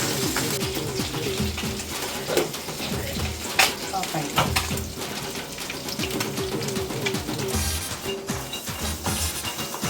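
Fish sizzles steadily as it fries in a pan, a dense, continuous crackle at close range, with occasional louder pops and scrapes throughout.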